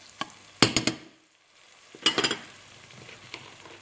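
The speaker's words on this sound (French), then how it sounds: "Je fais revenir les oignons dans un peu d'huile d'olive" Onions cooking in a little olive oil for a dish of white beans with mini sausages, with bursts of stirring and scraping against a soft, intermittent sizzle; no voices.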